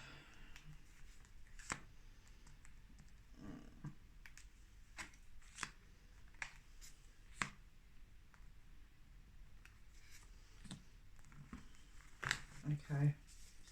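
Tarot cards shuffled and drawn from a deck in a series of soft riffling flicks and light taps, faint and close, scattered over more than ten seconds while a person speaks quietly.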